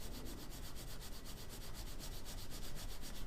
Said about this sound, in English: then I'm going to scrub in the direction that I sanded. And that will clean out the grooves where the surface has been abraded